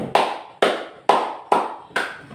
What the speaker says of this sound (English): Give 5 claps for yourself.